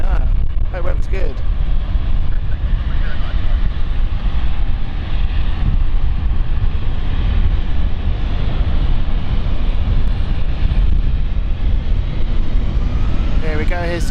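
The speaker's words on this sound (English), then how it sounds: "Here we go, here's the Geneva flight." At London City airport, an airliner on the Geneva flight gives a loud, steady jet engine roar with some wind buffeting on the microphone throughout.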